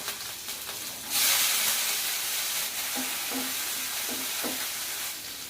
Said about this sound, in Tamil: வெங்காயம் கடுகு எல்லாமே பொரிஞ்சிருச்சு